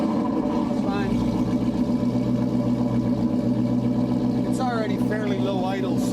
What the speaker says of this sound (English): Fairly low idle, so it's reasonably quiet right now.